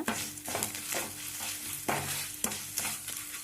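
A garlic mixture sautéing in a pan for garlic rice, a soft steady sizzle broken by rhythmic scrapes and knocks of a spoon stirring every half second or so, close and without talk.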